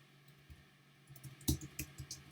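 A few quiet computer keyboard keystrokes while filling in a table for a Desmos quiz, coming as scattered clicks with short gaps between them, close and soft, with no one talking.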